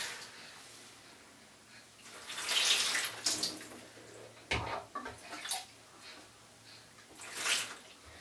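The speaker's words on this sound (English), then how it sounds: "And then you're just going to rinse his hair." Water splashes and pours intermittently while a baby's hair is rinsed in a home bath, coming in a few separate bursts of moderate loudness with quieter gaps between them.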